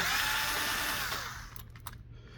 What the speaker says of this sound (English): I'm just gonna use electric screwdriver, so you're gonna do it much faster.